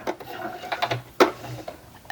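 A sewing machine stitching a tote bag, a short burst of uneven mechanical whirring and clicking close by, with sharp knocks of the needle mechanism.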